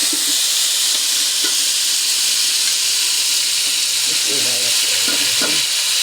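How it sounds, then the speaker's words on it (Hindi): Meat added to browned onions in a pot for biryani, frying with a loud, steady, close sizzle and hiss, with faint stirring clatter toward the end. "प्याज हो गई है ब्राउन, तो अब इसमें डालेंगे हम गोश्त"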